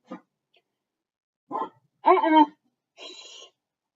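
A dog gives a few short, sharp barks or yips in separate bursts with quiet gaps between them. The barks are close and moderately loud, with no other sound around them.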